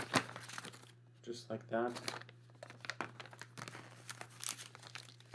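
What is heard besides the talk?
plastic wrap being peeled off a Focusrite Scarlett Solo audio interface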